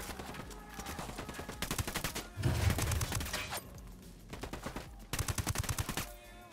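Gunfire in the video game Ghost Recon Wildlands: repeated bursts of automatic rifle shots, sharp and rapid, some bursts louder and closer than others, with brief gaps between volleys.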